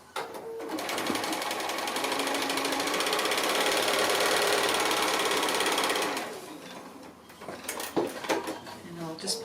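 Sewing machine stitching fabric strips, with one sustained run of fast stitching for about six seconds, then stopping before clattering handling sounds.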